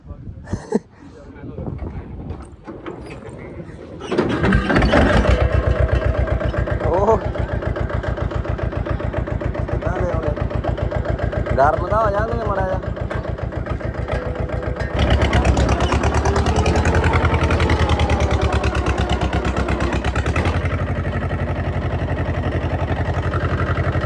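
A New Holland 3630 tractor's diesel engine chugs steadily at idle after starting up, its low throbbing continuous and close, with voices talking over it.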